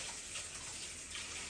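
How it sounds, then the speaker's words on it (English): Water pouring steadily into a winemaking vessel, a continuous close splashing hiss with no talk over it. "I'm gonna add some water to it."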